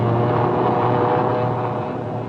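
Bomber aircraft engines roar loud and steady during takeoff from a rolling, pitching carrier deck in 1942, a dense continuous drone with no pauses throughout.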